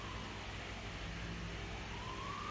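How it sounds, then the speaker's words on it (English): Sirens sound faintly in the distance, a thin wailing tone rising over steady background noise, with no talk. "Oh, here's some sirens."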